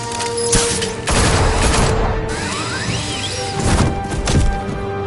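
Burst of video game gunfire in the Batman Telltale series, loud rapid shots and crashing impacts in two dense waves, with mechanical clatter between them.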